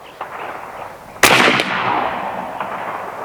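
A single sharp, loud crack comes from a Seneca Dragon Claw .50 calibre PCP air rifle firing 247-grain ammunition, followed by a brief echoing decay over steady outdoor background noise.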